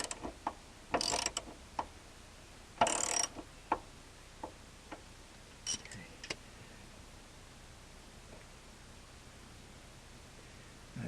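Ratchet wrench tightening a truck cab mount bolt, compressing the rubber mount: bursts of quick clicking ratchet strokes with pauses between, close and fairly loud, with a few lone clicks and no talk.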